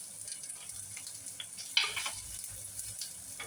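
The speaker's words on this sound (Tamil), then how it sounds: "வெங்காயம், கடுகு பொரிச்சிட்டு குஞ்சு மிளகா, கருவேப்பிலை தாளிச்சு இதெல்லாம் போட்டு தாளிச்சு" Mustard seeds, onion, small chillies and curry leaves tempering in oil give a faint, quiet sizzle with light crackles and one sharper spatter near the middle.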